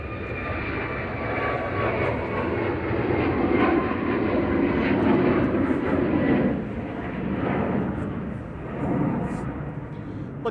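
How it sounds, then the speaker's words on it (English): A Ryanair jet airliner operated by Malta Air departs Manchester Airport, its engines roaring in a broad, sustained rumble that swells and slowly fades, heard from a distance outdoors. "Ryanair's 9HVUD operated by Malta Air, heading off to Krakow with flight 2141"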